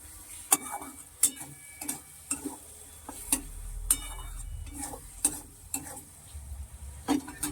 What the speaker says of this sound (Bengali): ক্যাপসিকামটা আবার একটু সামান্য ভাজা ভাজা করে নিয়ে